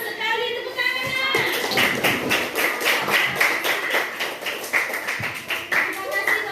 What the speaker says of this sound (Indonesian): Iya, bagus sekali tepuk tangannya.